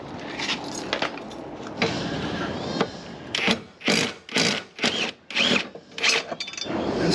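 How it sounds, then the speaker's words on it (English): Grass is scraped off a lawn mower deck with a hand tool in a series of rough, rasping strokes, the scrapes coming in quicker separate bursts toward the end, close up with no talking. "Instead of going crazy with all this scraping"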